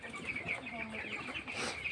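Broiler chickens cluck softly and continuously in a poultry shed while eating vaccine mixed into their water pots, a busy, close, low chatter of many birds.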